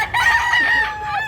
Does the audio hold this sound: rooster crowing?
yes